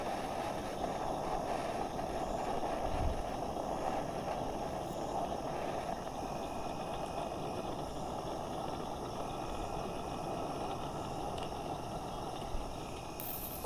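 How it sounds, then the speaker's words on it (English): A SpaceX Falcon Heavy rocket roars during launch, heard from far away as a steady, broad rumble with wind buffeting the microphone and no talking. "We are 30 seconds into flight under the power of 5 million pounds of thrust."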